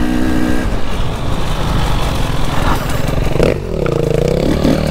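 An enduro motorcycle on a trail event lap revs hard and loud up close, a rough, clattering engine roar that surges and then shifts pitch as the rider lifts into a wheelie.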